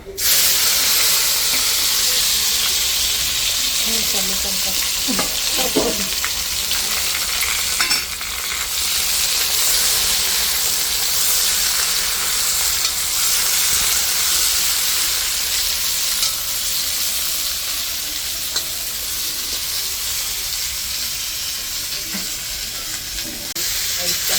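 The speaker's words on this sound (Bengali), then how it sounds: "এখন জিরাটা হয়ে গেছে, এখন তরকারিগুলো দিয়ে দিলাম।" Vegetables sizzle loudly in hot oil with cumin seeds and bay leaf, a steady, dense frying hiss running throughout with occasional stirring clinks.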